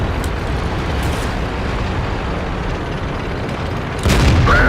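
Howitzers firing in World of Tanks, heard as a dull rumbling boom bed that stays steady, with a heavier thudding report breaking in near the end.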